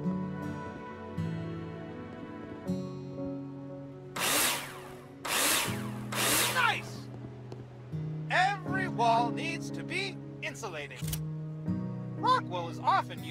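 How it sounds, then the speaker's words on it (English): Drill bursts from the Builder Simulator video game driving screws into plasterboard: three loud, harsh whirs of about a second each, heard over steady background music. "Take your drill out and screw them in."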